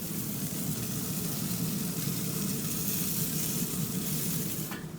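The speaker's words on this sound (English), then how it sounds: "Check the sizzle." Burgers sizzling on an outdoor grill, a steady crackling hiss that holds evenly throughout, fairly quiet and uninterrupted.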